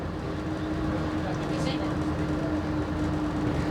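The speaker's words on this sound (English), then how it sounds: "Hear that engine now, growling, roaring." Vintage railway train at Ongar station, its engine growling and roaring in a continuous loud rumble heard from inside the carriage, with a steady low drone throughout.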